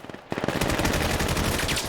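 Rapid automatic gunfire in the video game Vail during a competitive qualifier match, beginning after a few scattered quieter shots and then rattling loud and continuous for over a second and a half.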